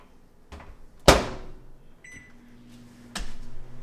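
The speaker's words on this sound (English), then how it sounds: "I'm gonna put it in for a few seconds, maybe 10, look at it, stir it a little, and keep repeating that" A microwave oven runs while heating an omelet in a jar, with a sharp door thunk, a steady low hum, and a short beep near the end, close and fairly quiet.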